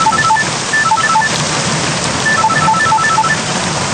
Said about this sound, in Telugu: వర్షం బాగా వాయించేస్తుంది కదా